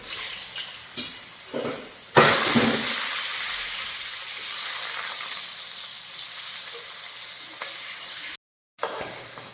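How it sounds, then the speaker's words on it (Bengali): Food drops into hot oil with a sudden loud sizzle, then a steady crackling hiss of frying continues, briefly cutting out near the end. "এবারে আলুগুলো এক এক করে ভেজে নেব।"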